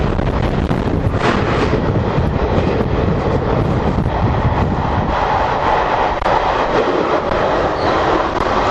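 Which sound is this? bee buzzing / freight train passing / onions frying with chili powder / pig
freight train passing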